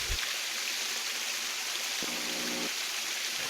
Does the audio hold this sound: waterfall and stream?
yes